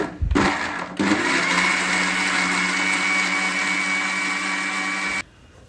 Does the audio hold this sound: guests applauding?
no